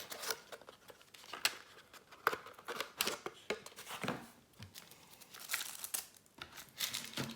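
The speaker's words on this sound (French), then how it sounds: "Donc je vais les sortir des cartons." Trading cards being pulled out of small cardboard packages, giving a steady run of close crinkling, rustling and papery scraping with sharp little snaps, no voices.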